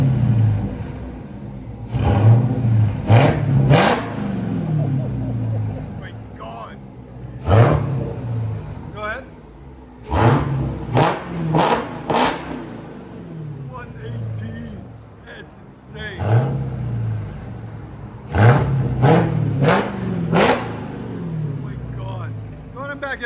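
A Chrysler 300 swapped with a Hellcat Redeye engine, fitted with headers and a muffler delete, revs loudly in several sharp bursts that fall back to a rumbling idle, close by, with people talking between the revs.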